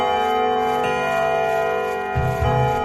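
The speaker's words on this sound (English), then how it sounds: "It's the creaking of the bell and the clicky-clacky, as we like to call it." A radio show jingle built from a creaking bell and clicky-clacky ticking plays as a steady, loud, tonal loop, with a low rumbling thump rising near the end and no talking.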